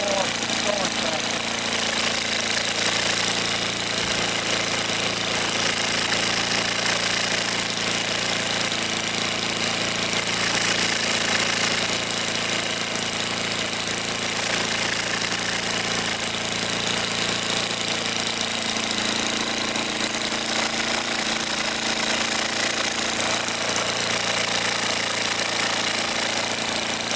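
A Dynamic Journal Systems engine runs steadily and loudly throughout, a dense mechanical roar with a low hum and rattling vibration that grows as it speeds up, with faint voices now and then.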